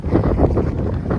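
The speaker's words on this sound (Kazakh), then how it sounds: "Құлақтан өтетін жел бар ғой." Wind gusts across a village on a February day, a steady, loud rumbling roar buffeting the microphone without pause and with no voices.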